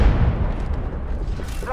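A frag grenade goes off in an Apex Legends battle royale match: a short, heavy boom at the start rolls into a low rumble that fades over the next second and a half.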